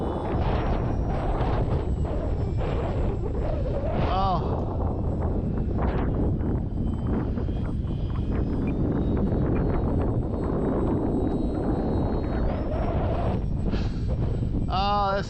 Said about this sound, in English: Well, yeah, that wind.